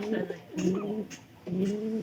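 Domestic pigeons in a loft coo in two soft, low, rolling phrases separated by a short pause, close by and moderately quiet against faint background noise.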